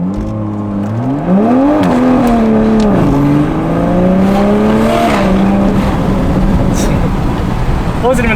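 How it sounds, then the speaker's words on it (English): Toyota GR Supra A91 (2021) fitted with a downpipe exhaust, loud engine revving with rising and falling pitch and a launch, with turbo whine up close and voices talking over it. "dude, you can hear that turbo. Oh, you want to rev? You want to punch it? Oh, launch!"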